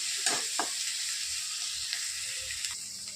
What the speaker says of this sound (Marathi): आता ह्याला पाच मिनटं परतून घेणार आहोत